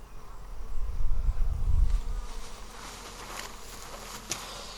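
Bees drone loudly around an open hive mid-inspection, a dense close buzz swelling in the first half then easing, with faint handling clicks and no voices.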